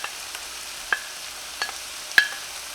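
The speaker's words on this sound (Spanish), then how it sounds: "Seguidamente agregamos las pechugas de pollo." Pieces of chicken breast fry in a pan: a quiet, faint sizzle broken by a few sharp pops and clicks, with no voices.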